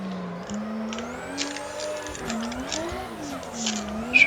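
A proper competition drift car in Assetto Corsa, held sideways in a slide on the Drift Masters track, with its engine note continuously rising and falling as the revs swing, plus a light hiss of tyres.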